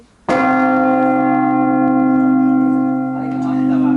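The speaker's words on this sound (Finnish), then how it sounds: "Tässä on 6 kelloa tässä tasaisella yhteensä." Large church bell in the tower of Turku Cathedral, one of six, struck once close by and left to hum, a loud sustained tone with rich ringing overtones slowly fading, light background noise late.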